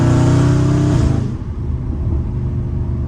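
A Dodge Scat Pack car's engine revs hard and loud up close while drifting, then the note drops off into a lower rumble as the throttle eases.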